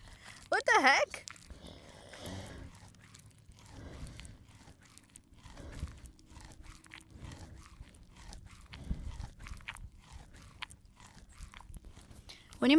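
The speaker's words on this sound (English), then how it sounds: "So she ate hay earlier, and now she is chewing that hay again" A cow chews her cud of hay at close range, a slow, rhythmic series of soft crunching grinds with quiet gaps between, plus an occasional louder snort or squeal from nearby animals.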